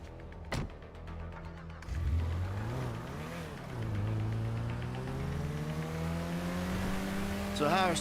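A car engine in GTA V revs and climbs through gears while driving, its rising and falling engine pitch steady and close, with people talking over it and a brief sharp squeal near the end.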